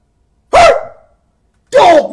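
A dog gives two loud, close barks about a second apart, each sharp at the onset with a short tonal tail, separated by silence.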